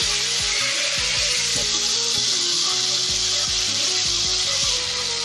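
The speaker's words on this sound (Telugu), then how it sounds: "అల్లం పేస్ట్ ఈ పచ్చిలాసం పోయేదాకా ఇలా బాగా ఫ్రై చేసుకోవాలి" Ginger paste fries with onions in a pan for egg biryani, giving a loud, continuous close sizzle with a spoon scraping and knocking against the pan at irregular intervals.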